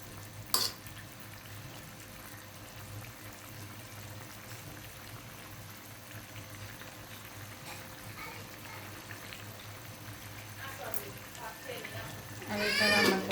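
Rui fish curry with bean seeds and potato sizzles and fries steadily in a pan, a continuous soft crackle under a voice, with a louder stir or clatter near the end.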